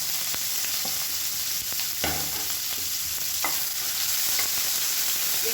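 Long-sliced big onions sizzle steadily in hot ghee, close and continuous, with occasional scraping stirs of a spoon through the pan and no talking.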